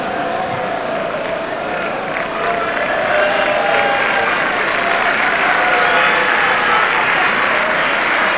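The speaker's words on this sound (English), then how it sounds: "Sympathetic applause for Rubens Jr." Sympathetic applause ripples around a football stadium crowd at a Porto vs. Barcelona Champions League match as an injured player leaves, a broad sustained wash of clapping and crowd noise that swells slightly, with faint commentary voices underneath.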